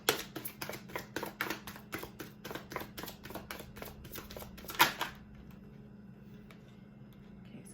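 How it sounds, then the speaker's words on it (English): Tarot cards are riffled and shuffled by hand in quick, crisp bursts of flicks and taps for about five seconds, then a final snap before the sound drops to quiet room tone. "One last shuffle."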